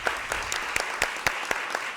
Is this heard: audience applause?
yes